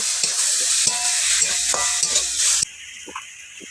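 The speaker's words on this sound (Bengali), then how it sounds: "এবার দিয়ে দেবো গ্রেট করা আলু, একটুখানি নেড়ে দেবো।" Grated potato is stirred in a sizzling pan, with several distinct scraping strokes over a continuous fry, and then the sizzle drops to a quieter tone for the last second.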